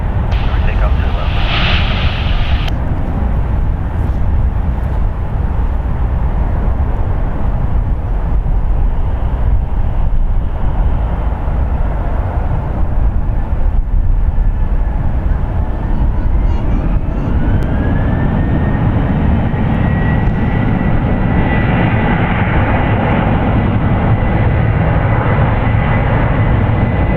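Jet engines roar in a steady, loud wash during an aircraft takeoff from runway 2 left at San Francisco International Airport, with a rising whine later and a voice briefly audible.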